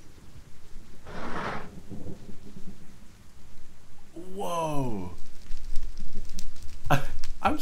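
Thunder rolls and booms through rain in a Minecraft Halloween horror map, with several loud rumbling crashes and a brief wavering tonal cry midway over the constant downpour.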